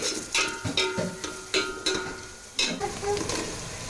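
Onions, green chilies, turmeric, cumin and mustard seeds fry in hot oil with a steady close sizzle, broken by repeated sharp taps and scrapes of a utensil stirring the pan.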